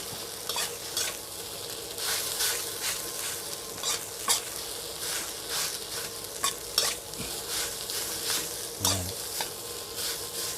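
Egg and rice stir-fried in a hot pan sizzle steadily while a spatula scrapes and stirs in a repeated rhythm, close and fairly loud.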